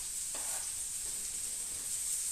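Chopped onion frying in melted lard in a pan for buckwheat soup, a steady soft sizzle with a faint stir near the start and no talking.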